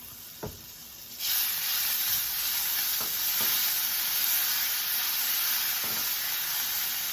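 Squeezed garlic hits a hot pan being readied for scallops: a soft tap, then a sudden loud, bright sizzle that holds steady, with a few faint clinks of a utensil under it.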